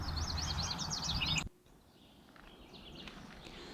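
Bright chirping bird calls sound close for the first second and a half, then cut off, leaving quiet woodland ambience with a few faint distant calls.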